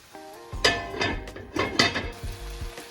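Ackee and saltfish in a pot on the stove, with utensils clinking and scraping against the pot over a low, steady bubbling simmer, in several short bursts close by.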